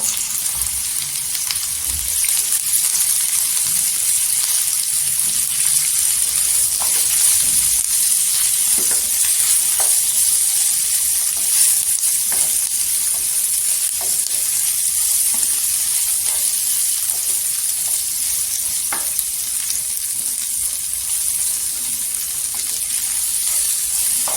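Okra sautés over high heat in oil with turmeric and golden garlic, giving a loud, continuous hissing sizzle with faint scattered crackles and spatters, steady from start to finish with no talking.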